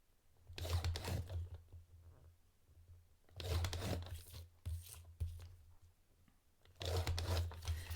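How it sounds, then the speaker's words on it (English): Cardboard being scored for a box cover, three separate bursts of scraping and rasping, each about a second long, close and fairly quiet, with short pauses between them. "we've got scoring to do here"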